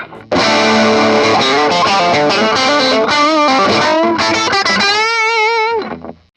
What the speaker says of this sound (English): That really gives you that overdriven strat sound.